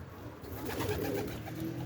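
Domestic racing pigeons cooing nearby, soft throaty low coos rolling continuously over a light outdoor background, with no voices.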